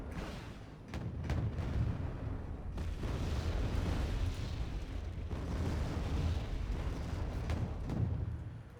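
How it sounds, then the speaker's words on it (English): Bombs dropped by a MiG-29 burst in the strategy game Wargame: Red Dragon, a continuous rumbling barrage of deep booms and sharp cracks rolling on for several seconds, fairly quiet and distant, with no talk. "MiG-29 coming up with his bombs"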